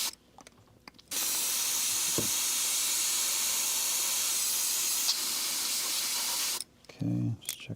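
An airbrush sprays paint in one long, steady hiss that lasts several seconds, close and fairly loud, with brief quieter moments before and after, a few short hisses and light handling sounds.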